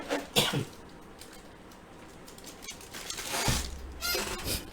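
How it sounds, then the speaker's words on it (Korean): Coughing from someone speaking in Korean about stocks: a couple of sharp bursts near the start and another cluster later, moderately close, with no clear talk over them. "갑자기 쓰니까 이렇게 또 기침이 좀 나왔습니다"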